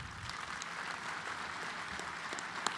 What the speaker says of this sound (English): Let's give him one more big one right here.